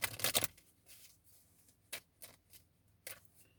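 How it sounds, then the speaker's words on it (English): A burst of tarot card shuffling up front, followed by several short, crisp riffles and taps spaced a beat apart, close and fairly quiet. "I'm just shuffling."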